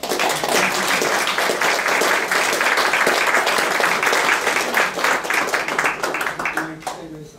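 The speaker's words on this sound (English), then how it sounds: "we're going to clap." An audience applauds after a lecture on quantum cognitive science: dense, steady clapping from a crowd that holds for several seconds and then tapers off toward the end.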